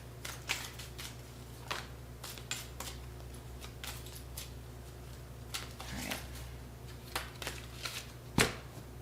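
Black Moon astrology deck cards are shuffled by hand in a quiet room, with repeated soft riffling rustles and crisp card snaps spread over several seconds and one sharper slap near the end.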